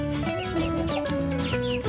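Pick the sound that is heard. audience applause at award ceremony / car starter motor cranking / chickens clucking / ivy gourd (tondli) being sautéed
chickens clucking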